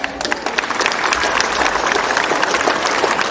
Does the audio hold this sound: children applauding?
yes